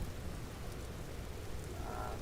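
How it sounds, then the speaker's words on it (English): Steady rain pours in a storm in the video game Vintage Story, a dense continuous hiss with no breaks and nobody talking. "Maybe there's the rain, like the storm."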